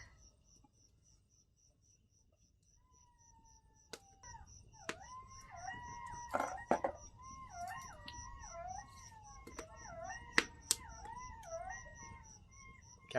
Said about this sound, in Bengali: কেমন জোর শিয়াল ডাকছে শোনো